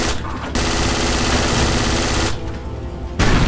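Sustained automatic gunfire from the tactical shooter Project Reality, a loud dense burst with a short break before the firing resumes, heard alone.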